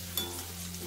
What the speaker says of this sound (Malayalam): ഞാൻ 1/2 കപ്പ് കിസ്മിസ് എടുത്തിട്ടുണ്ട്. അതും ഇട്ട് ഫ്രൈ ചെയ്തെടുക്കാം